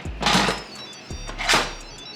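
A pressure cooker lid is set in place and locked, giving two sharp plasticky clicks and clunks about a second apart, close and distinct.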